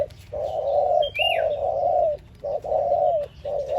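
Thai lucky dove (spotted dove type bird) cooing in a steady series of rounded, repeated coos, close and fairly loud over a low outdoor rumble, with a few faint chirps from other birds in the background.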